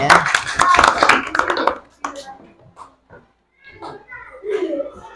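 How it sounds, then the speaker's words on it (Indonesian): Students in a classroom clapping together in a brief loud burst for about two seconds, then fading into scattered faint claps, with children's voices and talk following. "Tepuk tangan untuk kita semua."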